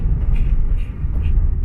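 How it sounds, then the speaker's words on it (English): A Subaru GC8 RSTi engine drones steadily as the car drives off boost, a loud, even low rumble heard from inside the cabin with no talk. "I'm going to show you that it drives around not under boost just fine."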